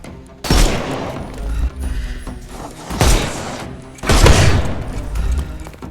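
Gunfire bursts in Sherlock Holmes Chapter One, three loud volleys with heavy low thuds spaced a second or two apart over a steady background hum.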